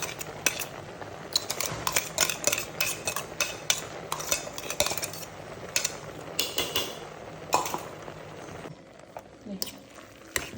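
Jackfruit puzhukku being mashed together with chammanthi in a pot, giving a busy run of scraping and clinking strokes of a utensil against the pot, near and fairly steady, with background voices underneath.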